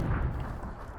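A grenade blast in PUBG thrown at an enemy behind a tree, a heavy low rumbling boom that rolls out and slowly tails off within about a second.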